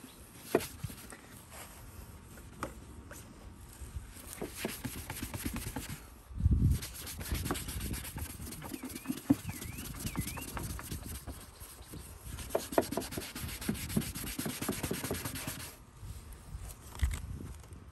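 A toothbrush scrubs a dirty car headlight lens, a soft, continuous rubbing and scratching with irregular strokes, close and fairly quiet, with no talk.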